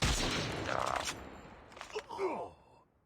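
Sniper gunfire in Call of Duty Mobile: a burst of rapid shots at the start, then fainter scattered bursts and game effects tailing off, fairly quiet overall.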